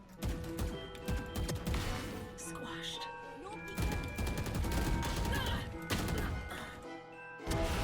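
Video game gunfire crackles through a tense round of a tactical shooter with a spike objective, bursts overlapping with busy game sounds and voice chat throughout.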